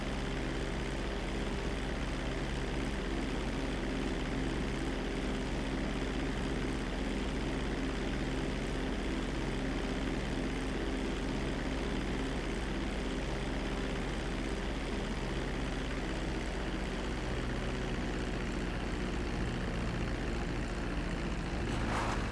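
A propeller airplane in a video game drones steadily for the whole stretch as it flies and comes in to land, a loud continuous engine hum with no talk over it.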